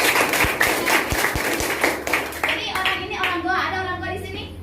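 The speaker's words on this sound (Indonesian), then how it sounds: "Kasih aplaus." Clapping from a small group celebrating a colleague's promotion to marketing manager, a few hand claps mixed with speech, then voices talking and laughing.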